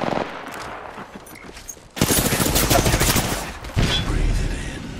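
Gunfire in the shooter game Apex Legends: scattered shots at first, then a sudden loud burst of rapid automatic fire that continues in heavy volleys, with another sharp surge near the end.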